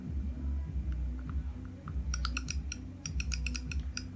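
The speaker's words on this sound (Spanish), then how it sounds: "Se escuchan, hay un clic, ¿bien? Y eso hace que el botón rebote hacia arriba y te dé un feedback" American-style arcade buttons with a clicky microswitch, pressed in quick bursts of sharp clicks over a steady low hum.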